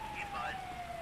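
An ambulance siren sounds in a GTA V street scene: a single sustained wailing tone, slightly falling in pitch, moderately loud over a rain-like hiss, heard for about a second with no talk.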